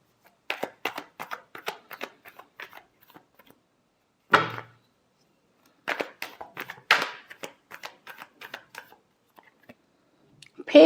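Tarot cards being shuffled, given a final shuffle before a reading: a run of quick papery riffles and flicks in bursts, with one sharper card-bridging whoosh in the middle and a brief pause, close and moderately loud.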